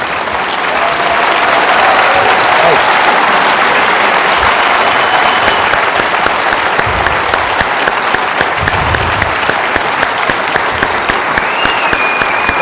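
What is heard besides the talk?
audience applause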